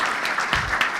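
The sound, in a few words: audience applause for the IT team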